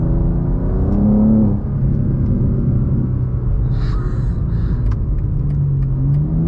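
A 2024 BMW M2 engine revs loud and close as the car accelerates, the engine note climbing, dropping briefly at a gear change, then pulling upward again through the next gear.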